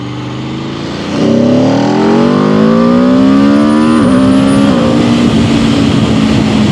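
A 2026 Aprilia RSV4 Factory sport motorcycle engine idles, then revs up loud and close, the pitch climbing steadily before dropping back and holding a high, raspy drone.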